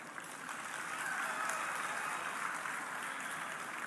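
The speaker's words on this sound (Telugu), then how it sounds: "కిషన్ రెడ్డి గారి గురించే మనం ఎక్కువ చప్పట్లు కొట్టాలి" An audience claps for Kishan Reddy at an event, a broad, steady wash of applause that holds evenly throughout with no voices over it.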